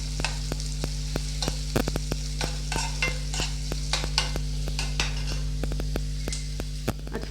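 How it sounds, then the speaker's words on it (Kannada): Finely chopped onion frying lightly in a pan, with a continuous close sizzle, regular scraping stir strokes and a low steady hum underneath. "ಸಣ್ಣದಾಗಿ ಕಟ್ ಮಾಡ್ಕೊಂಡಿರೋದು ಈರುಳ್ಳಿ, ಸ್ವಲ್ಪ ಲೈಟಾಗಿ ಫ್ರೈ ಮಾಡ್ಕೊಂಬಿಡೋಣ"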